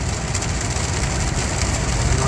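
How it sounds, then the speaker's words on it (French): Heavy rain pours down during a November storm in the Rhône-Alpes region of France, a dense, steady hiss of drops drumming on surfaces with no break, fairly loud and close. "la pluie est au rendez-vous et ça fait du bien"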